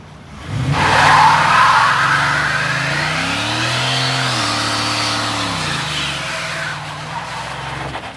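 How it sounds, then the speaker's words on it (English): A 2023 Ford F-150 doing a burnout on pavement: the engine revs up and holds with changing pitch while the tires squeal and skid loudly, then the sound slowly eases off. "we're going to test and see if the 2023 Ford F-150 can do a burnout"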